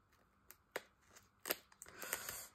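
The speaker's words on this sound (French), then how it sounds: "mais je vais le faire avec mes petits ciseaux ici" Small scissors trimming excess fabric from the edge of a gusseted pouch, giving a few quiet crisp snips spaced irregularly, close and faint, with no talk.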